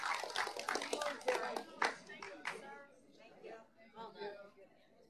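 Audience applause at a public redistricting commission meeting in Arizona, a burst of clapping from many hands, loudest early and tapering off into scattered claps and faint room murmur.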